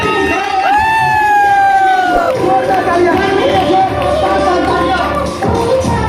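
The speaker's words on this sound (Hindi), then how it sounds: "एक बार खड़े होकर के सभी लोग एक साथ तालियां बजाएं।" A seminar audience rises to its feet together, breaking into loud cheering, shouting and dense clapping that fills the hall continuously and close, with voices calling out over the crowd noise.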